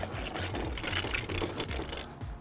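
A brace winding down the stabilizer leg of an MDC Forbes 13+ offroad caravan, giving a steady, close ratcheting mechanical whir that runs throughout with fine rapid clicking.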